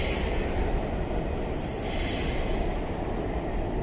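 An underground metro train in Kanpur, India rumbles and squeals steadily as it departs the station, a continuous loud roar of wheels on rails with high metallic screeching.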